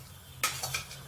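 Whole spices and turmeric root hit a little hot oil with a brief sizzle, alongside a sharp clink and a few scraping stirs of a utensil in the pan.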